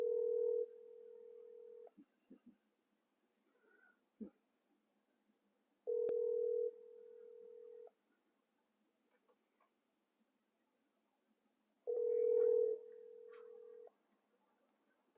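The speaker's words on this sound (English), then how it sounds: "some people just take forever to answer their phone" A telephone ringback tone sounds while a call waits for an answer, with three clear two-second rings spaced about six seconds apart and near silence between them.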